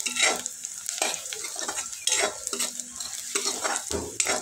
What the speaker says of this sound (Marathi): इथं कांदा चांगला परतून घ्यायचा आहे